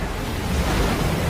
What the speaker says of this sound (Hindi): जिससे गर्म पानी की भयानक बाढ़ आ रही थी।